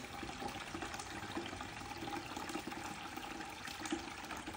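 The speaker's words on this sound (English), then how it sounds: "Using a water hose, 10 gallons a minute. It's a 5 gallon bucket we're filling up." A water hose running at about 10 gallons a minute fills a 5 gallon bucket, giving a steady, continuous rushing and splashing of water that holds at a moderate level throughout.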